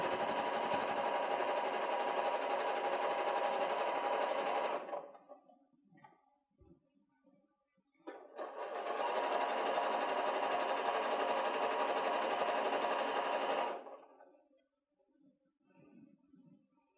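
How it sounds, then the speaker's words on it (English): A sewing machine stitches a fabric bucket in two sustained bursts of rapid, even whirring, each about five seconds long and separated by a quiet pause with small handling sounds. "I'm just going to sew it from the inside and around"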